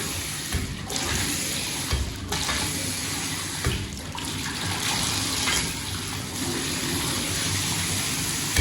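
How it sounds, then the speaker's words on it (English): Hot water gushes steadily from a leaking tub spout, a loud continuous splashing rush that holds for several seconds with no voices. "So what you want to do actually is run some hot water through it"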